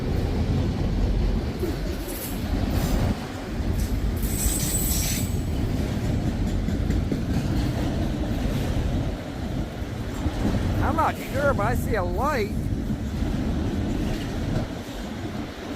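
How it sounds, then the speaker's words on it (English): A CSX freight train rolls past behind its leading locomotive, a steady loud rumble of railcars with brief wheel squeals near the end, while someone talks over it. "it's the same train leading locomotive"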